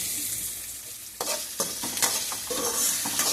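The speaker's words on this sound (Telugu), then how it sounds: "చూడండి టమాటాలు ఎలా వేపుకోవాలండి బాగా ఎక్కువ వేపండి" Tomatoes frying and being stirred in a pan for a ridge gourd chutney: a steady close sizzle with repeated scraping stirs, no voices.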